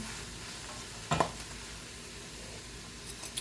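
Fried cabbage with smoked ham frying in a pan, with a steady sizzle throughout and one short scraping stir near the middle, close and moderately loud, with no talking.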